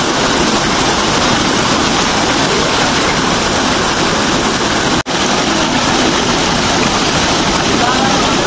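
Steady broadband rush of creek water flowing near Buluan Falls in Marilog District, Davao City, a loud continuous wash with a brief dropout midway and no talk.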